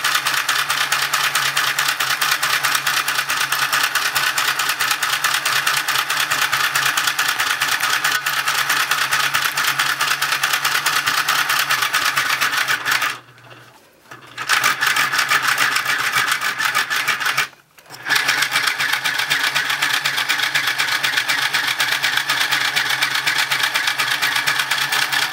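A serger sewing machine running steadily and loudly up close, giving a fast continuous mechanical whir that stops briefly twice before starting up again.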